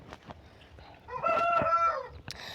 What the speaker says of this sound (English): This rooster, every time I start talking,